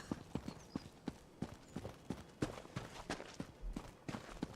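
Horse hooves lope steadily through a fantasy landscape in the online role-playing game Elder Scrolls Online, a regular rhythmic clip-clop of repeated hoofbeats heard close and clear with no talk over them.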